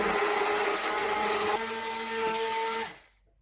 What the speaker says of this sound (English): please be careful when you're using a stick blender